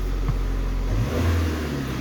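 A car engine rises in a brief rev as the throttle is pressed, a steady mid-pitched drone with a short climb near the middle, close and fairly loud over a constant rumble.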